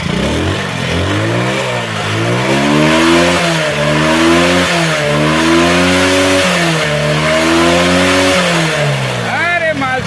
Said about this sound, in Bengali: সাউন্ড কোয়ালিটি এত সুন্দর আছে ইঞ্জিন এত ভালো আছে